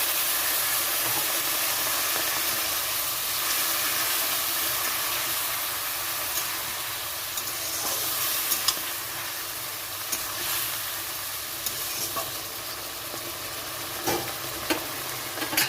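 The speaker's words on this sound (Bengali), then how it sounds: "এখানে আমি দিয়ে দিচ্ছি অল্প পরিমাণে জল মশলাটা কষানোর জন্য" Spice paste for magur fish curry frying with a splash of water, a broad steady hiss and sizzle with occasional spoon taps and scrapes, close and without voices.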